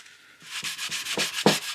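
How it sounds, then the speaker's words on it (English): Coarse sandpaper, roughly 240 grit, rasping by hand over hard body filler on a 1972 Hacker RP73 under restoration: close, repeated back-and-forth scrubbing strokes that grow louder and quicken toward the end, with no voices. "So I'll keep sanding this off."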